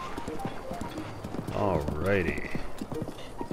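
Horse hooves clip-clop steadily in the video game Breath of the Wild as the horse is ridden along a road, with a brief whinny midway and someone talking over the galloping.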